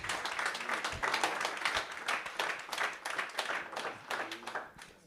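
An audience at a public service colloquium applauds, a lively burst of many hands clapping with uneven swells and dips, close and fairly loud.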